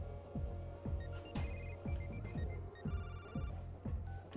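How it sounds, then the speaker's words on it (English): A phone ringtone from the video game Perfect Dark Zero, set during a nightclub stakeout, rings in a repeating electronic pattern of sharp pulses over a steady game soundtrack, loud and close throughout. "That ringtone though."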